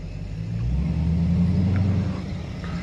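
A supercharged 5.7 Hemi Dodge Challenger R/T rumbles with a deep, steady low growl that swells slightly and holds close by for the whole stretch, with no voices over it.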